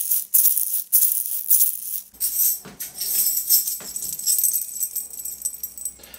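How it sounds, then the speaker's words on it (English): Egg shakers played in a rhythmic pattern, bright rattling shakes that are close and fairly loud, with uneven bursts and brief pauses. "Next up we have the egg shakers."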